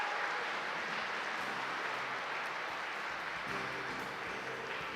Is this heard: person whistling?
no